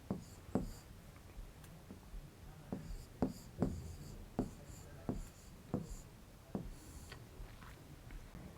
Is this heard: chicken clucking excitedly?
no